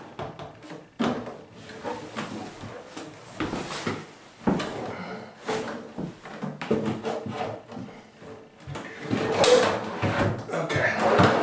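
Homemade wooden drawer repeatedly slid open and shut, a series of rumbling scrapes and knocks close by, with brief talk between strokes.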